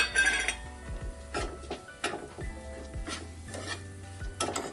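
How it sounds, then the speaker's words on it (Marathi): Besan (gram flour) frying in a pan with turmeric and asafoetida, stirred by a spoon that repeatedly scrapes and clinks against the metal, with a soft sizzle underneath, close and steady. "हिंग फ्राय करून झालं थोडं का मग हे बेसन फ्राय करायचं"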